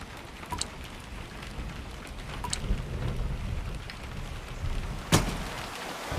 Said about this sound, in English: There's going to be a storm. Storm? It's not a storm. That's just a little rain.